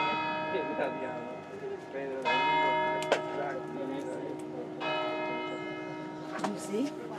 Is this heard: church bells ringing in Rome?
yes